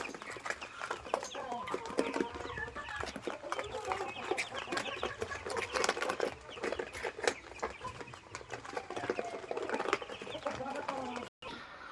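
Native hens on a poultry farm in Kerala cluck and call in overlapping bursts throughout, with someone talking over the birds.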